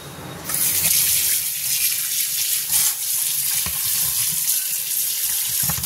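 Tap water gushes steadily into a sink while hilsa fish are washed, a loud continuous close rush that starts abruptly and runs on alone.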